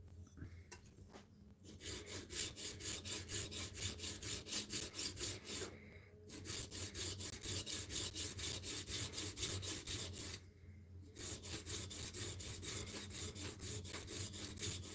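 A blade bevel is polished toward the shinogi on a stone in long, rhythmic strokes, a close gritty scraping with a few short pauses between bursts and no talk.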